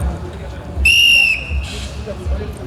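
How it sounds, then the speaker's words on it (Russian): Referee's whistle at a kuresh belt-wrestling bout during a Sabantuy festival in Domodedovo: one loud, sustained shrill blast of about half a second, followed by a fainter trailing tone, over a low crowd murmur. "Пока я свистка не дам"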